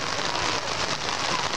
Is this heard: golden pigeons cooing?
no